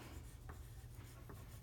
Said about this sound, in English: And on the back, we do need to write our name. Use a pencil.